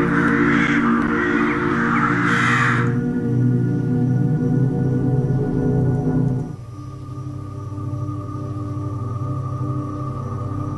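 Crows caw loudly and close over a constant droning hum that continues throughout, the cawing strongest in the opening seconds and persisting more faintly as the background shifts partway through.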